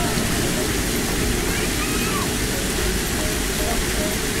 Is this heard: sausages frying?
no